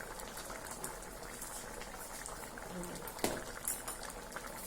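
A pot of prawn malai curry simmers on the stove, giving off a soft, steady bubbling that stays faint and even throughout, with a brief clink near the end.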